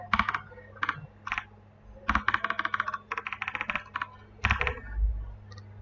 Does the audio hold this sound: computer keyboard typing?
yes